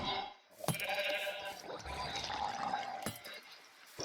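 A cow being killed in the video game Minecraft lets out a bleating, moaning cry over game background noise, framed by a few sharp clicks and thuds, with no speech.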